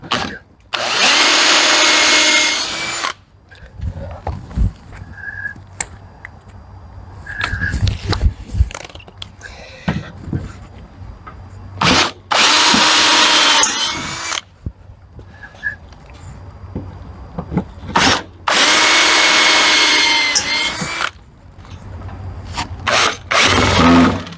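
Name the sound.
power drill driving screws into workbench corners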